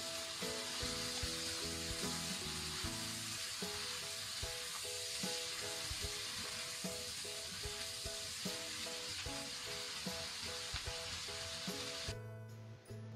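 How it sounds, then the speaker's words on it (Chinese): Spicy chicken wing tips sizzle loudly in a wok as they are stir-fried, a steady frying hiss with scraping spatula strokes throughout, tapering off near the end. "时间到了以后，再快速的翻炒几下，炒匀就可以出锅装盘了"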